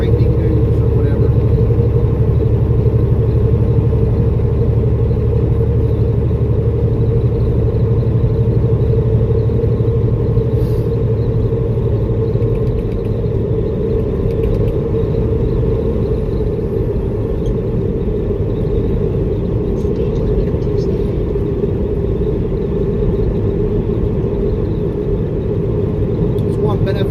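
A truck rolling down the road, its engine and tyres making a steady loud low rumble from inside the cab, with talking over it throughout.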